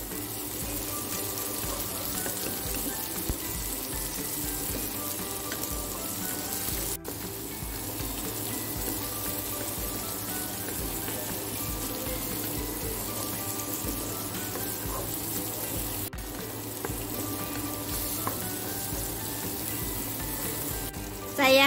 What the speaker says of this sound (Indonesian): Saya kasih air sebanyak 150 ml ya.